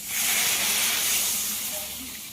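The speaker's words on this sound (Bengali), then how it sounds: "এবার এতে দিয়ে দেব জল।" Water poured into a pan of cooking egg and pointed gourd curry, a loud, broad hissing rush of steam and splashing that fades slightly toward the end.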